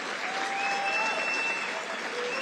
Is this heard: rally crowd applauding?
yes